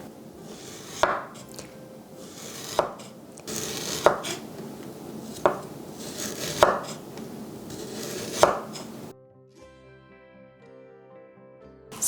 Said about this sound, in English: slice it thinly against its fibers